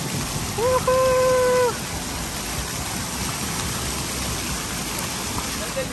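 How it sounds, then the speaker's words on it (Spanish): A water jet sprays at a water park, making a steady broadband hiss like heavy rain throughout, with a brief tonal call or shout rising over it near the start. "Y aquí está el chorro de agua."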